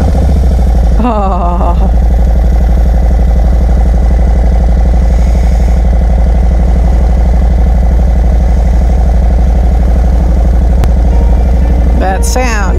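A motorcycle engine with an aftermarket exhaust and tuner rumbles loudly and steadily at idle, with a brief rev near the start; a voice briefly exclaims.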